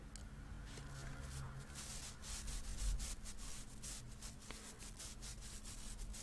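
A sponge rubs an exfoliant over skin in soft, repeated scrubbing strokes, quiet and close, with a steady low hum underneath.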